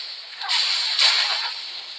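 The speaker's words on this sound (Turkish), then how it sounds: "Şimşek çakıyor oha." Lightning strike in the video game Moco, a sharp hissing crack that swells suddenly, then a second brighter burst, fading out over about a second.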